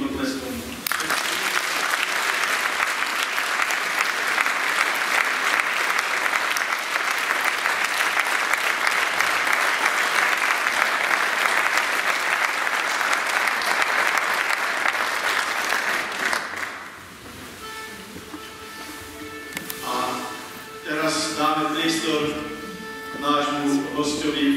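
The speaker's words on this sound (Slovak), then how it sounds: "Takže na záver ich ešte odprevadíme veľkým potleskom." Big, sustained audience applause at a Slovak Christmas folk event in Podkonice, honouring the Gančal sisters, loud and dense for about sixteen seconds before fading into music and voices.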